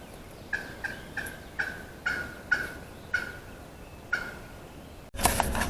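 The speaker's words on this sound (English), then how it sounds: "getting them to gobble everywhere" A wild turkey gobbler on Ohio public land in the morning gives a steady series of short, sharp calls about half a second apart, moderately near against quiet outdoor ambience, before a sudden burst of louder noise at the end.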